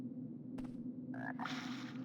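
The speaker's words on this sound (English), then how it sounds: "There's a frog." A frog croaks in the fantasy video game Arx Fatalis, a harsh rasping call that rises over a steady low ambient hum, heard close and fairly quiet with no speech.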